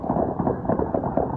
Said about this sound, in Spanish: pero dejen de tronar cohetes, por favor